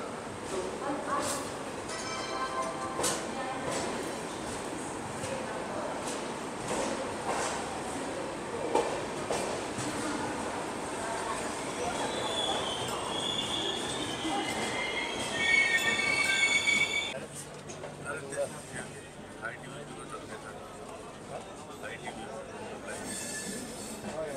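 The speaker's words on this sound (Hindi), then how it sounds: "तो ट्रेन अपनी निकल चुकी है कटिहार जंक्शन से।" The Rajdhani Express departs Katihar Junction, heard from inside a first-class coach. Wheels squeal loudly over a rumbling, clattering ride that swells midway, then drops to a quieter hum.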